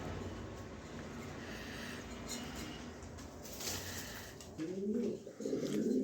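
Pigeons coo close by, soft throaty calls rising over a steady background hum, then louder, clearer coos toward the end.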